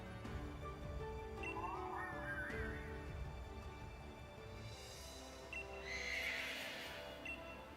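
A horse in the video game Pokémon Shield neighs with a rising, wavering whinny, followed later by a brighter, louder whinny over a steady background hum.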